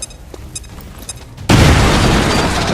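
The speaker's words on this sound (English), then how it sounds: "We can then grenade this guy." A grenade explodes in the XCOM 2 video game, a sudden loud boom with a long rumbling roar after a few quieter clicks and game sounds.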